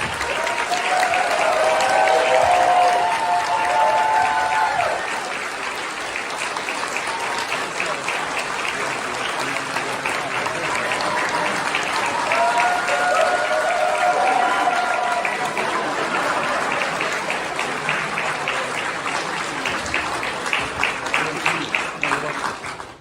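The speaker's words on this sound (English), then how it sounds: "A massive round of applause for our special guest." An audience applauds guests called up on stage at a podcast live event, a loud, sustained wash of clapping lasting throughout, with brief cheering voices rising over it near the start and again midway.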